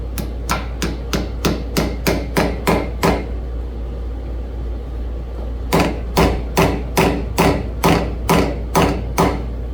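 Sharp metallic hammer taps on Harland Sharp engine rocker parts, two bursts of about ten evenly spaced strikes separated by a pause, close and loud over a steady low hum.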